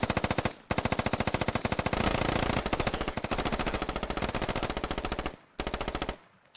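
Rapid machine-gun bursts in the military shooter game Squad, long sustained strings of close, loud shots broken by brief pauses, with a shorter final burst.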